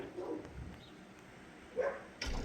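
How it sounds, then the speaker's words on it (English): Several dogs barking in short bursts inside a garage workshop, agitated by a stray cat outside; the barks sit at mid distance, scattered across a few seconds with a louder burst near the end. "My dogs are going psycho because the gutter cat"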